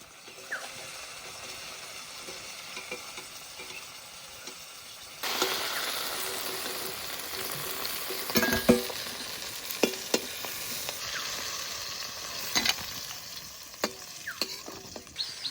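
Fresh river giant prawns fry lightly in a pan: a low sizzle that swells abruptly louder partway through, punctuated by clattering clicks and scrapes of a spatula, with no speech.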